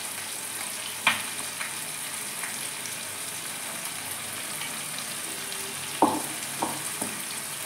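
Yogurt and onion paste fry in a pan for restaurant-style chicken chap, a steady low sizzle running throughout, with a couple of sharper clinks or stirring knocks near the start and again toward the end.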